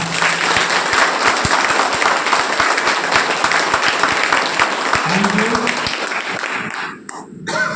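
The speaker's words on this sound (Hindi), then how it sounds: "तो मैं एक बार चाहता हूँ जोरदार तालियां, जोरदार।" Loud, sustained applause from an audience at a business plan meeting, a dense crowd of clapping hands that stays strong and close before thinning near the end, with some voices underneath.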